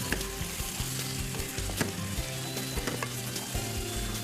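Chicken masala curry base sizzles and crackles steadily in a pot, with occasional clinks and stirring scrapes close by, no talking.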